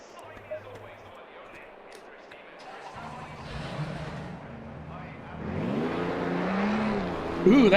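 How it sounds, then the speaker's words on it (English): A V6 turbo GT2 race car engine in the Assetto Corsa Competizione racing game is faint at first and then swells as the revs climb, rising in pitch near the end, with someone talking over it. "that has a good engine sound. Wasn't expecting that with a V6"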